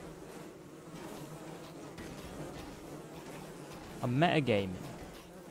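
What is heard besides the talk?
bees buzzing in the video game Don't Starve Together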